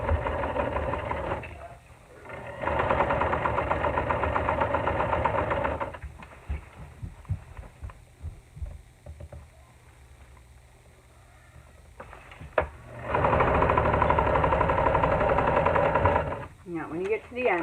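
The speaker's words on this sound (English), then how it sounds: "just very carefully sew down close to the edge of the fold over elastic" A sewing machine stitches fold-over elastic onto a gusset in two steady, whirring bursts of a few seconds each, separated by a quieter pause with soft handling noises.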